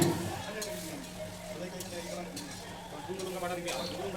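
Chicken being stirred in a pan with Kashmiri chili powder, a spatula scraping and clinking against the metal over a faint sizzle, close by, while someone talks throughout.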